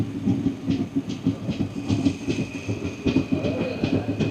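A Tinpahar–Rajmahal passenger train pulls into Rajmahal station, its wheels beating out a steady, close clickety-clack rhythm over the rails beneath a continuous rumble, with no voices.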